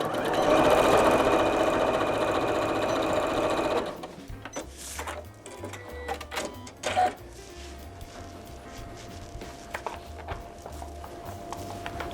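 A sewing machine with a dual feed foot runs steadily and loudly while stitching a mug handle, then stops, leaving quieter handling noises and light clicks.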